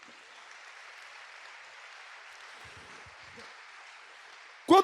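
Church congregation applauding during a sermon, a steady wash of clapping throughout that stays even, ending with a short loud burst of voices.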